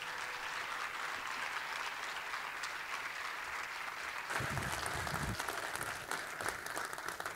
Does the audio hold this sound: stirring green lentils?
no